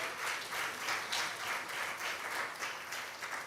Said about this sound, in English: A round of applause for Jennifer.